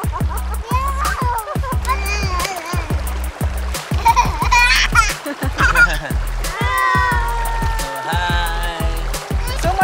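Children splashing and swimming in a river at a family nature campsite in Tanay, Rizal, with lively kids' voices and shouting over steady splashing throughout.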